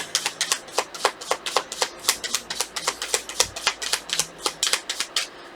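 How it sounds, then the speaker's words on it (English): Tarot cards being shuffled by hand: a rapid series of crisp riffling bursts, about three per second, close and fairly quiet, with no talk. "Last shuffle."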